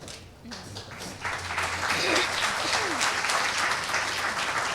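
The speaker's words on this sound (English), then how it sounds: "We would like to hear your applause" An audience bursts into applause, building over the first second into a dense, sustained wash of clapping from many hands, with a faint voice or two underneath.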